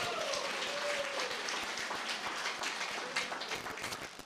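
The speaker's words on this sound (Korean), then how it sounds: "박수 한번 할까요?" An audience at a network-marketing business presentation applauds in a steady, dense wash of clapping that holds for several seconds before starting to thin out.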